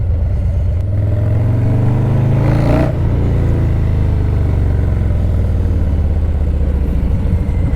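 A motorcycle engine idles loud and close with a steady low rumble and a brief rev swell near the middle, then settles back into an even throb.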